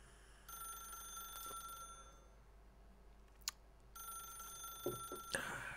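A telephone rings in The Stanley Parable video game, two bursts of a sustained electronic ring separated by a quiet gap, moderately loud over faint game background, with a brief click and rustle at the end.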